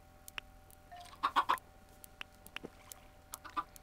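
Minecraft chickens give a quick cluster of soft clucks, three short bursts close together, followed by faint scattered ticks and game noises, with no talking.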